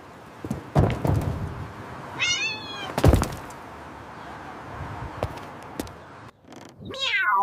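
A cat meows several times, short rising cries scattered between thumps and bumps, fairly close and loud against a quiet background.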